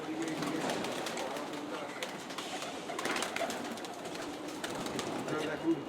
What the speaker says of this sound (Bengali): দেখুন, ভিতরে অনেক কবুতর আছে।